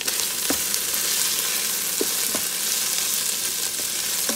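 Crushed red pepper fries in the pot of a Ninja Foodi pressure cooker with a dense, steady sizzle throughout, broken by a few faint knocks. No one talks.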